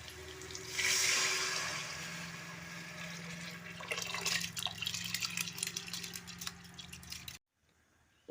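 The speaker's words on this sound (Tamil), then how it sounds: "நம்ம அரிசியும் தண்ணியும் சேர்த்துடலாம்." Water poured from a vessel into a pot of rice and onion masala for egg biryani, a gushing, splashing pour up close that settles into a steady flow and then cuts off abruptly.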